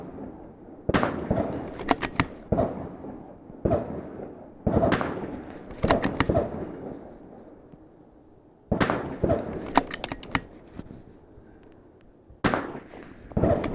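Sharp rifle shots crack out at targets on a shooting range, several loud reports in quick clusters spread across the stretch, each with a short echoing tail, no talk over them.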